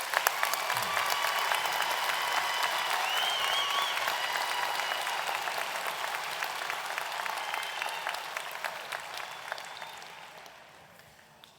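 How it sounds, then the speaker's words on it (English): Sustained audience applause at a graduate studies commencement honoring doctoral degree recipients, a steady dense clapping that holds for about ten seconds before tapering off near the end. "Let us applaud the recipients of the doctoral degrees."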